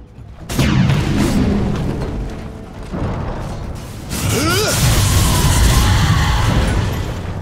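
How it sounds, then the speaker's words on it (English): A tower is destroyed in Dota 2 with a heavy booming collapse and grinding mechanical creaks. A second loud rumbling crash and a sweeping sound effect follow, loud and close. "Dire's middle tower has fallen."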